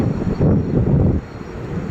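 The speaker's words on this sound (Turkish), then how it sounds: "Yukarıdan uçak." A steady low roar of an airplane passing overhead in İzmir, loud and continuous, easing slightly toward the end with wind buffeting the microphone.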